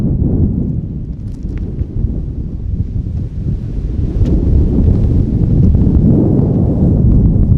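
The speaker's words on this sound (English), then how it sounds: "It's really windy." Strong wind near Las Vegas roars and buffets the microphone in a loud, continuous low rumble, with no pauses.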